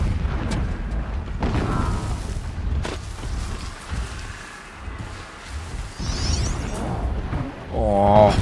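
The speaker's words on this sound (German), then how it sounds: "Entfernte Explosion." A distant explosion in the video game Horizon Zero Dawn produces a muffled boom, followed by scattered whooshes, pops and mechanical game effects, with a voice talking partway through.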